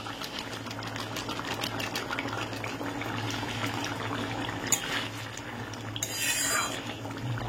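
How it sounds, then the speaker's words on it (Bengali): Egg curry in a pan on a gas stove bubbles and boils with a close, continuous rumbling simmer, rising briefly near the end amid a faint clink and steady background hum. "এই রান্না করার পর যখন এই ঝোলটা টকবক করে ফোটে না, আমার দারুণ লাগে"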